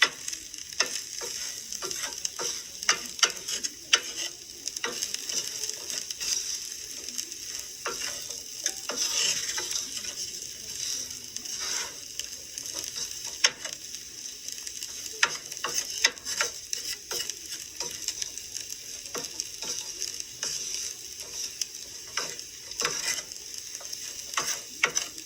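Ingredients sizzle steadily in an oiled pan on very low heat while a utensil scrapes and stirs them in irregular clicks and taps, close by and without any voices.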